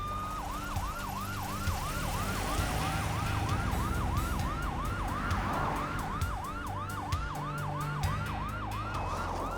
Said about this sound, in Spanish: Los paramédicos la suben a la ambulancia para llevarla al hospital de Hilo.